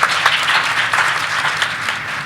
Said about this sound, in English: Can we get a round of applause for all of our expert panelists here?